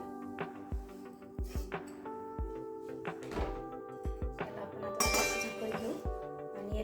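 A lid is set down on a pan of carrot halwa, giving several sharp metallic clinks and thunks, close and clear, over low kitchen background.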